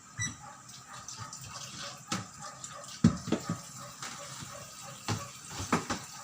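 Tilapia is rinsed under running tap water, with irregular splashes, drips and clattering knocks over a low, continuous trickle, close by in a small kitchen.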